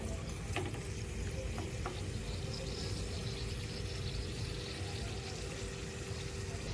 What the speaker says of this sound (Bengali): দেখো এক সাইড আমার ভাজা হয়ে গেছে হালকা করে আমি অপর দিকটাও উল্টে দিলাম